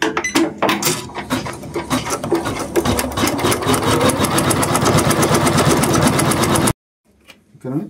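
A sewing machine, model 450e, runs steadily while stitching fabric, a close, loud mechanical whir lasting several seconds before stopping abruptly, followed by faint handling noises.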